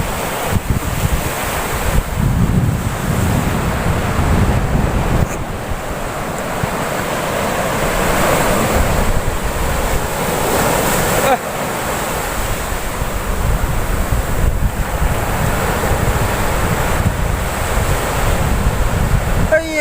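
Wind and sea waves roll onto a Goa beach in a loud, continuous roar. Broad surges rise and fall every few seconds, and wind buffets the microphone throughout.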